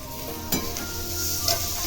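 Steamed bitter gourd goes into a pan of frying onions, giving a close, steady sizzle with scraping stirring sounds and a couple of sharper clinks from the utensil.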